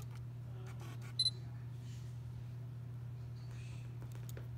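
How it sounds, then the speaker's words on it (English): A Sony A7R III camera firing its shutter once, a quick faint click paired with a short high beep over steady low room hum, with no talking. "So test the shutter sound."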